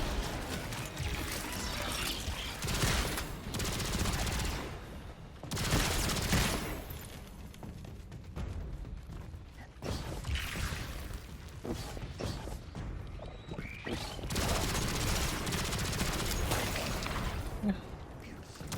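Rapid submachine gun fire from the video game Destiny 2 crackles in dense bursts among thumps and other combat effects, loud and continuous throughout.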